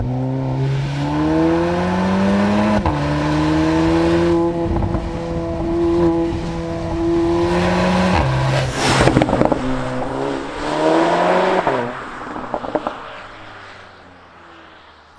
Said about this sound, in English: the fantastic Akrapovic titanium exhaust. And just listen to it scream.